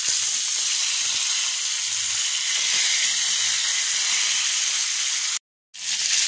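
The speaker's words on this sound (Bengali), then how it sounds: "এই যে একটা প্যানে তেল দিয়ে দিয়েছি, তেলটা গরম হয়ে গেছে, এবার একটু ফ্রাই করে নেব।" Fish frying in hot oil in a pan: a steady, close, bright sizzling hiss holds almost unbroken, cut off by a brief dropout near the end before resuming.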